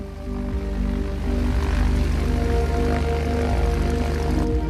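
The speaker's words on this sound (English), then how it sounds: "The XF-5U was powered by two Pratt & Whitney twin Wasp engines." A Vought XF5U aircraft powered by two Pratt & Whitney Twin Wasp piston engines drones steadily with a throbbing propeller hum that swells slightly after the first second and holds loud and constant.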